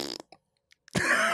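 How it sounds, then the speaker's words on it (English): A comedic fart sound effect, added in editing, gives a short, raspy blurt, then near silence with faint ticks, then a longer, louder rasp at the end. "I added the farting sound."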